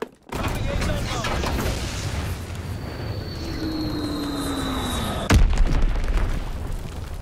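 Bombing run in the Call of Duty WWII video game: dense, continuous rumbling explosions and gunfire with a descending aircraft whine, ending in a sharp loud blast near the end.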